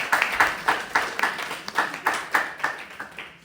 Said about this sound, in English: So can we please give Her Excellency a round of applause?